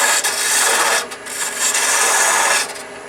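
Wood turned on a lathe for a knit-hat style bottle stopper finial, the top shaped as waste comes away: a loud, close rasping scrape runs in sustained passes with two short breaks, over a steady machine hum.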